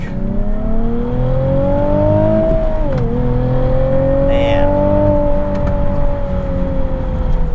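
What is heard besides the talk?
Nissan 370Z Nismo accelerating onto the highway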